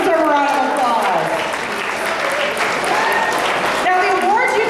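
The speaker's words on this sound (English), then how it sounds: "You guys deserve a round of applause" An awards ceremony crowd claps steadily and loudly throughout, a dense wash of applause with a voice speaking over it from start to finish.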